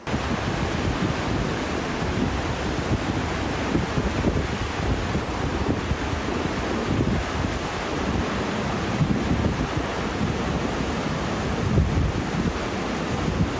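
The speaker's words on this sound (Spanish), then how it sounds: "vamos a sacar el micrófono para que escuchen el ruido que hace la cascada" Waterfall in Banff roaring as a steady, loud broadband rush of falling water, mixed with gusty wind buffeting the microphone, continuous throughout with no talking.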